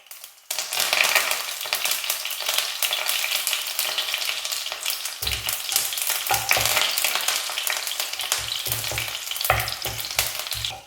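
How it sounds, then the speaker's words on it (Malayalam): Curry leaves and dried red chilli pieces frying in hot coconut oil after mustard seeds pop, tempering for a Kerala ginger curry; a steady, close sizzle with crackling bursts and occasional stirring runs throughout. "കടുക് ഒന്ന് പൊട്ടിക്കഴിയുമ്പോൾ 3 വറ്റൽമുളക് ചെറിയ കഷ്ണങ്ങളാക്കി കട്ട് ചെയ്തത് ഇതിലേക്ക് ഇട്ട് കൊടുക്കാം."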